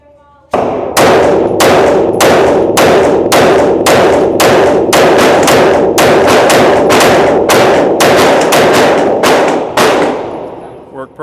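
A Shadow Systems CR920XP pistol fires a rapid string of about twenty loud, sharp shots at the range, closely spaced with slight gaps, ending after roughly ten seconds.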